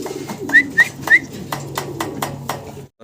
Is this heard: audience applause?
no